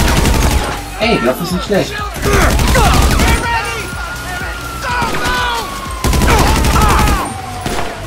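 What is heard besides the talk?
special carbine gunfire in video game GTA Online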